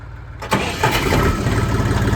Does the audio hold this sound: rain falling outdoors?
no